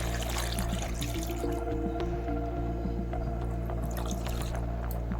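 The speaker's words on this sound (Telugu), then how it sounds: "కొంచెం వాటర్ పోసుకుందాం." Water is poured into gongura dal cooking in a pressure cooker, a close, continuous gurgling splash with soft squishy bubbling against a low background hum.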